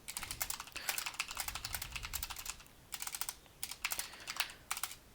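Rapid clicking keystrokes on a computer keyboard, close and crisp in uneven bursts with brief pauses, fairly quiet and alone.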